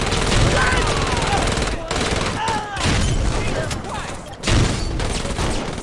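Bursts of gunfire from the Saints Row video game, loud and rapid, come in waves with brief gaps, mixed with game noise and background voices.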